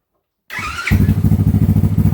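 Small Honda ATC 70 three-wheeler engine starts up and settles into a steady idle after an idle adjustment, its close, loud putter pulsing in a fast, regular rhythm.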